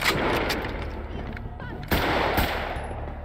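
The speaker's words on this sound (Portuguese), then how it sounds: "Tem que trocar tiro com seguranças" Rapid bursts of gunfire from a video game shootout with security guards crack in quick succession, loud and close, with a couple of sharper shots standing out against continuous background noise.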